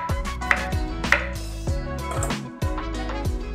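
A kitchen knife cuts through a fennel bulb on a board, separating the white part, with several sharp chopping strikes in an irregular rhythm, close and fairly loud over a faint ringing background.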